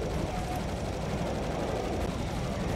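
Gunfire in the video game Serious Sam 2, a dense continuous barrage of rapid shots filling the whole moment, steady and fairly loud.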